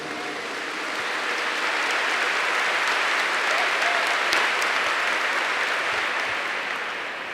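A church congregation gives steady, dense applause that swells after the first second and holds for several seconds before easing off slightly, with a few louder claps near the end.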